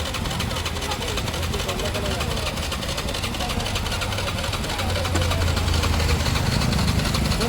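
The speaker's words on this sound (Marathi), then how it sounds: "गाडी बंदच नव्हती काही." A vehicle engine idles steadily with a low rumble and faint knocking vibration, growing slightly louder near the end, while people talk over it.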